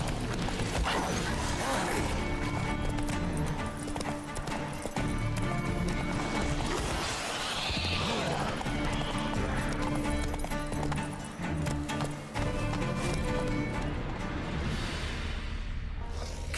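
The horse Roach gallops in The Witcher 3: Wild Hunt with a steady, loud clip-clop of hooves over a dense game soundscape of wind and music, continuing for the full stretch.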